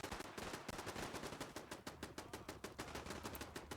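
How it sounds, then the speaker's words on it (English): Rapid video-game gunfire in Fallout 4 rattles on without pause, a dense machine-gun-like stream of loud shots filling the whole stretch with no talking. "Who are they shooting at?"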